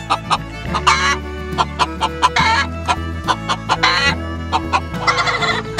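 Chickens and a rooster on a farm cluck loudly and close by, with repeated sharp bursts of clucking and squawking over a steady low hum, and no talking.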